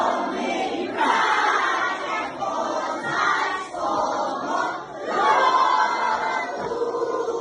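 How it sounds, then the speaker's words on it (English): A large crowd of people sheltering underground from attacks creates a dense, echoing murmur of many voices, rising and falling continuously in an enclosed space. "Here in the underground, again, a huge crowd of people hiding from these attacks"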